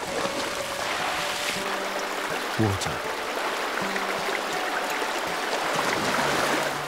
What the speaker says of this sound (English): Water. It's dispersed throughout the valley by an ancient system known as the Falaj.